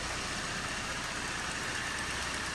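A 2011 Mercedes-Benz R350 engine idles steadily under an open hood, giving a constant, even hum with a faint hiss and no voices.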